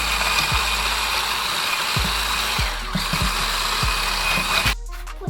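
Electric mixer beating eggs with sugar for a cake batter, a steady loud whirring motor with occasional clicks and knocks, ending abruptly.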